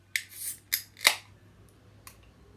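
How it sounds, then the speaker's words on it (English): A can of One Drop Dream Machine Lassi Gose is cracked open with a few quiet, sharp clicks and short hissy bursts, close by, with no talking. "then we'll crack it on open"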